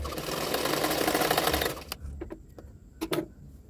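A sewing machine stitching a blouse sleeve runs in a fast, steady mechanical whir for about two seconds, then stops, followed by a few light clicks and taps close at hand.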